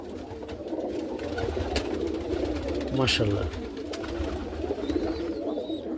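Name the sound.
pigeons cooing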